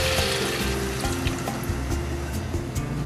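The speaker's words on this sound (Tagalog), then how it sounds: "lalagyan ko siya ng kunting tubig" Water being poured into a pan while Bicol Express cooks, a steady near splashing and running liquid over a low simmering sizzle, continuous for about three seconds.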